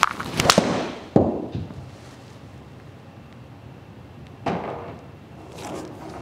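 A golfer's club swings and strikes the ball on a Dubai course, a sharp crack early followed by further impacts and bounces, with wind noise buffeting the microphone outdoors.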